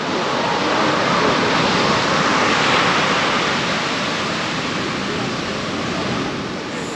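Waves crashing at Kelingking Beach on Nusa Penida, a loud, broad continuous roar of surf that swells slightly and eases, with no pauses.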